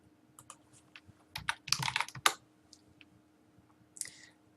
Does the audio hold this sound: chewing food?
no